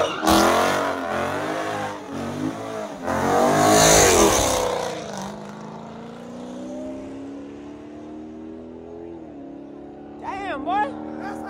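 A Dodge Hellcat at a car show revs hard and spins its tires, the engine roaring and climbing in pitch in repeated surges before settling into a steadier drone, with people shouting and cheering nearby.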